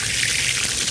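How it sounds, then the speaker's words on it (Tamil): Water gushing into a large pot of rinsed rice set to soak for Dindigul-style mutton biryani for 100 people: a short, loud, continuous pouring rush heard up close. "அலசிட்டு தண்ணி ஊற்றி ஊற போட்டலாம்"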